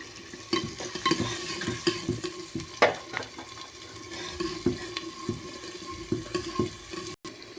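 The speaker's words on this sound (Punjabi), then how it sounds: "ਲਸਣ ਪਿਆਜ਼ ਭੁੱਜ ਰਹੇ ਹਨ ਜੀ ਆਪਾਂ ਇਹਨਾਂ ਨੂੰ ਬਰਾਉਨ ਹੋਣ ਤੱਕ ਭੁੰਨਾਂਗੇ" Garlic and onion fry in hot oil with cumin seeds, a steady close sizzle broken by scraping stirs and clinks of a spoon against the pan, with no talking.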